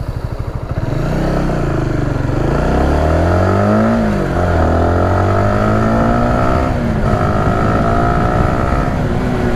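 A Honda Supra GTR 150 motorcycle engine revs up from low, climbing in pitch through several gear shifts as it accelerates from 0 to 60, loud and close throughout.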